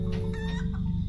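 Chickens cluck briefly and closely in a Lord of the Rings video game, a short burst of fowl calls over a steady low game background hum.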